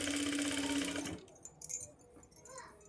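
A sewing machine runs steadily for about a second while stitching blouse piping, its dense mechanical whir stopping abruptly and leaving faint handling clicks and rustles.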